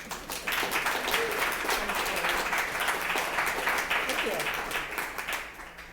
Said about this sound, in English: If you'd give her a round of applause.